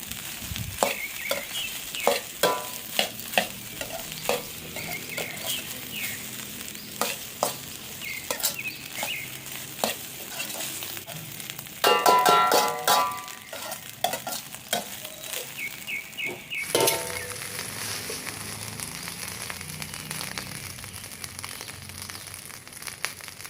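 Carrots and salt stirred in a frying pan, a steady sizzle broken by repeated scraping strokes of a spoon, with a few louder clattering bursts midway and near the end; no voices.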